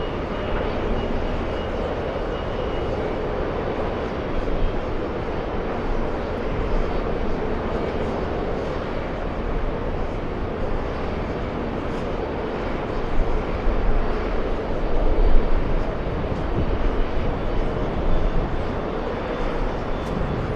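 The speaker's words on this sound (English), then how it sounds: "Go for the Delta Airlines A321. This one parking at the Alpha gates." A Delta Airlines Airbus A321 taxis to the Alpha gates at JFK airport, its steady engine roar continuous and moderately distant, swelling slightly midway with no voices.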